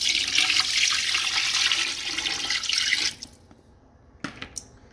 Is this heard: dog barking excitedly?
no